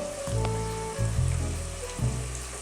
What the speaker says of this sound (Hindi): लहसुन अदरक की पेस्ट की अच्छी तरह भुनाई करूँगी।